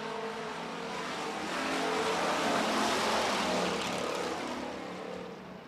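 Street stock race cars roar past together on an oval track during a heat race, a dense, loud engine drone that swells as the pack draws near and then eases slightly.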